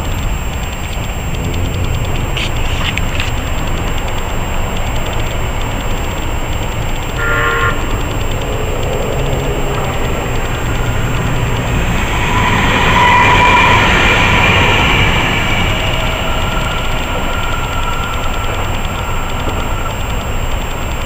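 A Tide light rail train passes a level crossing on Curlew Drive, with a sustained loud rumble and a short horn toot building to a close pass before easing off.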